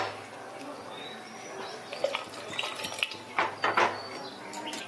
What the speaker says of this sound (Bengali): এবার কুকারটাকে ধরে ভালো করে একটু লবণ আর তেল জলের সাথে মিশিয়ে দিচ্ছি।